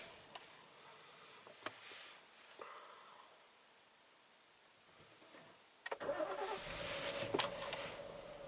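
A Ford Explorer V6 engine is heard faintly, with a few clicks and a quiet stretch in between. It then restarts or surges into a louder, steady running hum near the end. No talking.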